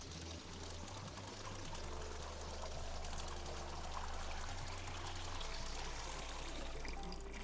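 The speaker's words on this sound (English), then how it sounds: "Let's pour in the water." Water pours steadily in the cozy video game Wanderstop, a continuous trickling stream lasting several seconds over a low, sustained musical drone, with no speech.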